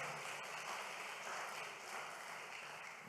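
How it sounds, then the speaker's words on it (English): Audience applause for a presenter at an evening presentation on entrepreneurship, steady and sustained throughout with a broad, even wash of clapping and no voices over it. "We can give a round of applause to Brother Franklin."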